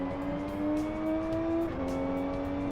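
A race car engine in Live for Speed drones at a high, steady pitch while overtaking, its tone dipping briefly as a gear changes, loud and close with no voices.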